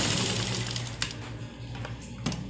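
A sewing machine stitches two fabric strips together for a salwar drawstring, giving a soft, steady mechanical whir with a few sharp clicks, fairly close and heard on its own.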